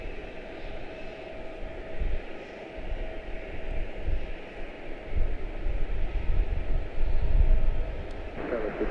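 An American Airlines Boeing 777-200 bound for Madrid begins its takeoff roll at Charlotte-Douglas International, a low, steady distant jet roar that builds gradually in strength over several seconds.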